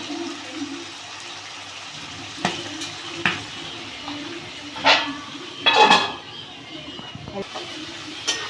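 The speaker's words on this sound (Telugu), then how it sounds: "లివరు కొంచెం చిట్టపట అంటుంటుంది" Chicken liver fries in a pan with ginger, a low steady sizzle broken by a few sharp spluttering pops and crackles, with faint background voice.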